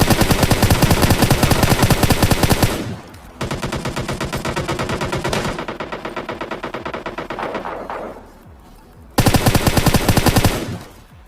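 Loud, close gunfire rattles in rapid automatic bursts during a firefight in the mobile shooter PUBG Mobile Lite, with long strings of shots broken by brief pauses and a final burst.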